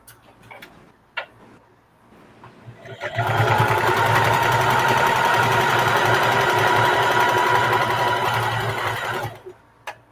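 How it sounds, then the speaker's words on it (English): A sewing machine top stitches a reversible bucket hat, starting after a few clicks and running in one loud, steady, rapid stitching burst for about six seconds before stopping. "Press them apart and then flip this and then top stitch."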